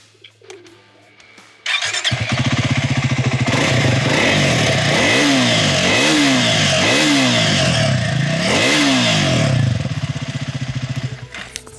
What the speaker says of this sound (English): let's give a listen to how the Speed 400 sounds.